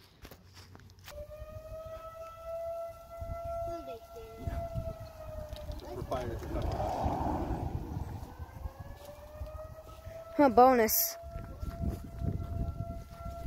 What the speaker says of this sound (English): Fire siren.